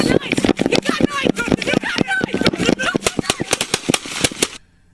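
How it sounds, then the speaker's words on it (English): A Jacksonville Sheriff's police officer fires in bodycam footage of an officer-involved shooting: a loud, rapid volley of many sharp gunshots in quick succession, thinning out toward the end before stopping abruptly into quiet. "she is potentially firing as the guy now turns towards this area"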